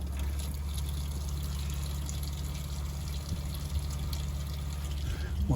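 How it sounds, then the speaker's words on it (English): Water runs into a motorhome's fresh water tank during cleaning, a steady close trickling pour over a low electrical hum, continuous throughout. "the water's running in but also running out at more or less the same rate"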